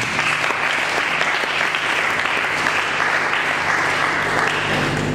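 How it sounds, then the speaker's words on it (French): A crowd applauds at the close of a speech on the Congo's future, with steady, dense clapping that stays loud and even from start to finish. "Est-ce qu'on peut acclamer à la fin?"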